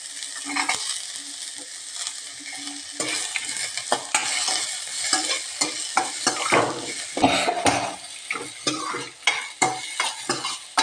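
Sliced onion and coconut pieces sauté in a pan for a papaya masala curry, with a steady sizzle under repeated scraping stirs and clinks of a spoon against the pan, growing busier toward the end.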